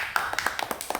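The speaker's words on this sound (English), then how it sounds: "Give yourself a round of applause." A classroom round of applause: a short burst of scattered hand claps, fairly faint and thin, with several distinct sharp slaps spaced irregularly over about a second.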